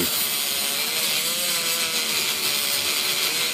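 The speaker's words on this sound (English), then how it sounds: "I'm spinning this slowly because I have a dull blade evidently." A dull blade spun slowly around the landing gear strut of an AH-64 Apache model helicopter to score it, giving a continuous close, loud scraping rasp with no pauses.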